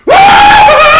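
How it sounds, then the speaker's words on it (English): A clown performer at a haunted trail lets out a loud, sustained scream lasting about a second, starting suddenly and holding a steady shrill pitch alone with no talk. "Can you give us a little taste of that scream, your scare, your phrase that you say?"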